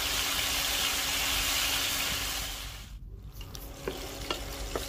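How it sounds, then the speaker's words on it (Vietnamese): King oyster mushrooms fry in oil, giving a steady close sizzle with a dense crackling hiss that dips briefly, then resumes with scattered pops and spits. "sẽ chiên sơ cái phần nấm đùi gà này, chiên nó vàng vàng lên gì nè"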